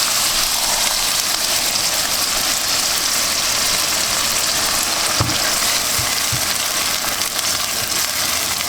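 Beef sizzling and stir-frying in a hot pan with gochujang BBQ sauce, a steady loud hiss of frying with occasional clinks of the utensil, no talking.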